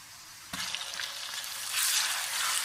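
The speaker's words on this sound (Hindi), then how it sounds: "और उसे तकरीबन 30 सेकंड के लिए भून लेंगे।" Ginger garlic paste hits hot oil with browned onions, setting off a sudden loud sizzle that settles into steady frying with stirring, then crackles up again, close and without voices.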